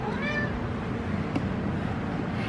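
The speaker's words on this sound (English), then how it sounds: "We shouldn't give our cats table food, but every once in a while we will sneak Prim some turkey" A pet cat meows while begging for turkey, with a few clear rising-and-falling cries near the start over steady indoor background noise.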